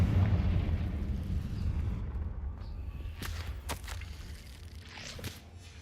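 Confringo fire spell blasting in Hogwarts Legacy: a deep, rumbling explosive roar that slowly decays, followed by a few sharp whooshing bursts and pops.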